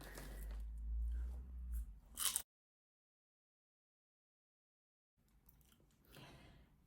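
Salt and vinegar bat-shaped crisps crunched in the mouth, a close burst of crackly chewing followed by a sharp loud crunch, then a silent gap and softer chewing resuming.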